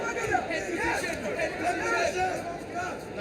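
Arena crowd at a Bellator MMA fight, a steady roar of cheering and chatter that swells and dips continuously without clear breaks.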